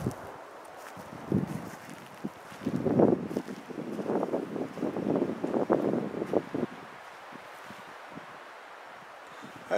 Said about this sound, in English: I hope the wind's not too much.